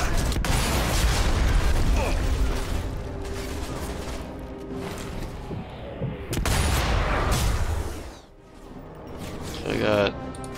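Game gunfire and explosive booms in Sniper Elite V2 play in loud bursts over a dense battle soundscape, dipping briefly near the end, with someone talking over it.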